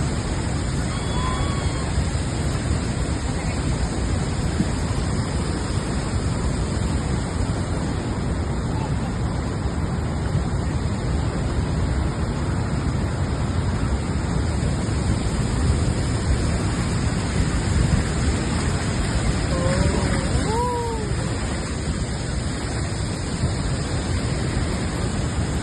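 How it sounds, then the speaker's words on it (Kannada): Hogenakkal waterfall on the Kaveri river sends water crashing onto rocks in a dense, unbroken roar that holds steady and loud throughout. "ಬಂಡೆಗಳ ಮೇಲೆ ಅಪ್ಪಳಿಸುವ ನೀರು ಹೊಗೆಯಂತೆ ಹೊರಹೊಮ್ಮುತ್ತದೆ"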